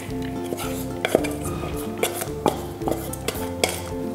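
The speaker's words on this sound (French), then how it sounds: "dans un saladier, on va verser le riz préalablement cuit" Cooked rice tipped into a salad bowl in a home kitchen, with a few sharp clinks of a utensil against the bowl over soft rustling and scraping, close and fairly quiet.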